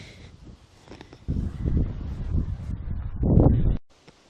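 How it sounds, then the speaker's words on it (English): Gusty wind at Kildrummy Castle in Scotland buffets a nearby microphone with low, rumbling surges that build and fade, strongest near the end before dropping away. "it's windy and it's rippling the grass"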